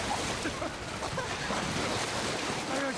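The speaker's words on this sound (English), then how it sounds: "Oh, and it's moving water?" Moving water in the video game The Last of Us Part 1, a steady, full rushing wash of current and surf that fills the whole clip at close range, with no talk over it.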